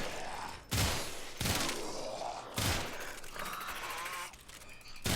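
Sicarus pistol burst fire in Warframe, several loud sharp bursts spaced about a second apart, each followed by echoing tails and game effects.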